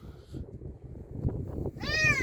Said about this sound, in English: There was a cat meowing quite loudly